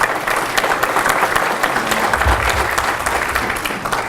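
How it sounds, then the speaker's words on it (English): A crowd at a county meeting applauds the credentials crew, steady clapping sustained throughout at fairly close range with no talk over it. "Let's give the credentials crew a round of applause."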